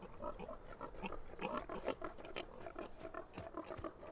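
Several pigs in an animated show grunt and snort in a rough, overlapping series of bursts that sound fairly faint and close together, with no speech.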